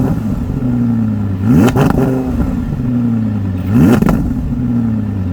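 A naturally aspirated V10 in a 2021 Audi R8 V10 Performance RWD revs twice through its exhaust, each sharp rising blip climbing over a steady idle burble and then dropping back, close and loud.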